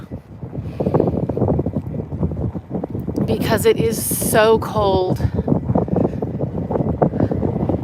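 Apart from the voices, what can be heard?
wind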